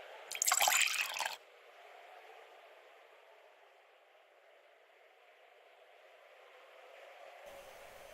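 A short, sharp burst of liquid sound as water is drunk in a survival video game, followed by a low, quiet hum that lingers for several seconds.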